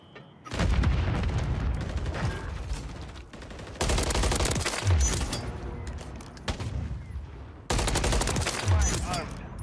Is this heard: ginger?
no